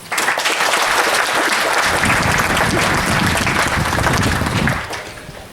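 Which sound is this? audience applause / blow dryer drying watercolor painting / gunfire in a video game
audience applause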